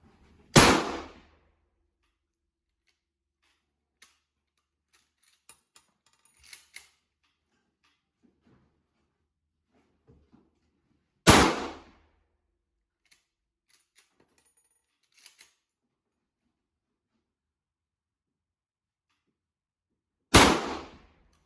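Three sharp rifle shots from a Mosin Nagant M91/30 sniper rifle, spaced roughly ten seconds apart, each a loud crack with a short decay, separated by near silence with faint clicks and handling noises.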